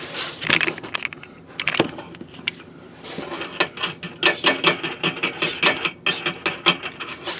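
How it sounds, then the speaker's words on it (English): A wrench works a nut loose on an RV sewer valve, a close series of rapid metallic ratcheting clicks and small clanks, growing steadier and more rhythmic in the second half. "Spin that nut off, make things a little bit easier."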